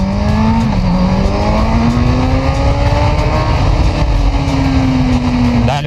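A 2022 Kawasaki Z900 motorcycle engine revs close and loud, its pitch sliding up and holding steady through a sustained throttle pull, with a quick blip near the end.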